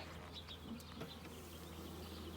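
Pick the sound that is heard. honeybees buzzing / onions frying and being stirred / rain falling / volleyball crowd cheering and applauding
honeybees buzzing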